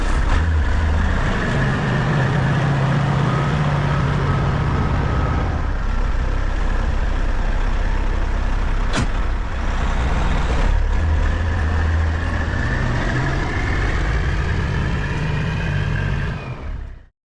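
A truck engine runs steadily as the driver prepares to hook up a flatbed trailer, a loud continuous diesel rumble with slight shifts in pitch, close by, with no talk.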